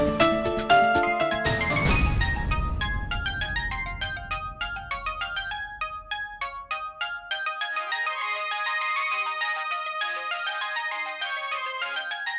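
Telephone ringtone playing a bright, tinkling electronic melody that repeats for the whole stretch, loud and alone, with a sharp swoosh near the start.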